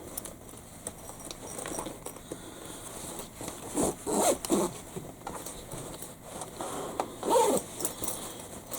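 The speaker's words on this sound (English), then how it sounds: "zip her up" A zipper on a freshly sewn fabric backpack is run along its track in several quick rasping pulls, close and crisp, with short pauses between strokes.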